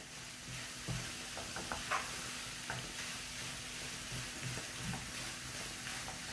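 Mallow (khoubiza) stew cooks in a pot as a spoon stirs it, giving a soft bubbling hiss with faint scattered scrapes and light knocks against the pot.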